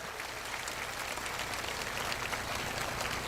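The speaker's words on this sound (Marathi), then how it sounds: "कमी टाळ्या जोरात वाजल्या पाहिजेत" A crowd at a public speech and inauguration event in Malegaon claps in dense, sustained applause that fills the whole stretch at an even level.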